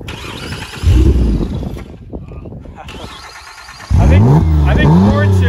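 A crashed Ford Fusion with a damaged front right wheel cranks and catches twice, each start a loud close rumbling burst that settles into a rough idle, with people talking over it between the starts.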